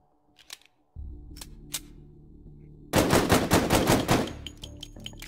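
WW2 weapons fire in the VR shooter Hot Dogs, Horseshoes and Hand Grenades: a few sharp mechanical clicks, a steady hum, then a loud rapid burst of automatic shots lasting over a second, trailing into scattered clacks.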